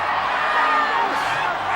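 A crowd at a British wrestling show cheers and whoops in a steady, loud roar with a few raised voices standing out.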